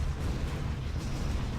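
An enemy blast in the shooter game Tower of Guns fills the moment with a loud, continuous booming rumble, heavy and dense from start to finish, with no voices over it.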